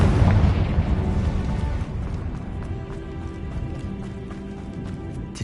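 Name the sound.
Confringo blasting curse explosion in the video game Hogwarts Legacy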